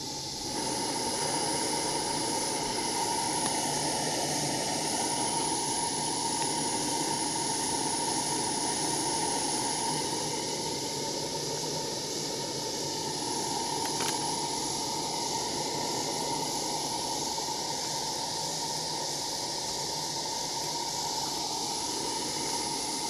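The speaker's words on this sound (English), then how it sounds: "That's it boiling off all the steam, all the water that's inside of it." A continuous, steady hiss of steam boiling water off a heated exhaust muffler from a 1982 Honda ATC185s, holding level for the whole stretch without pauses or voices.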